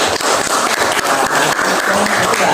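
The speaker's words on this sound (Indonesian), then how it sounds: "Tepuk tangan untuk semua." Students in a classroom clapping for their classmates, a steady, full round of hand claps that is loud and sustained throughout with no talking.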